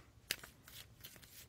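Tarot cards being shuffled by hand, a few soft, quiet riffling and slapping bursts, close and alone.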